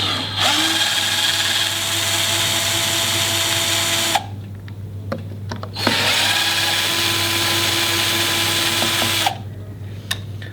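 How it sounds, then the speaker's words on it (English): A power drill undoes screws on an electric skateboard deck in two loud sustained whirring runs of about four seconds each, separated by a short quiet pause with small clicks, under a low steady hum. "Now we have exposed the screws, we'll proceed to undo them."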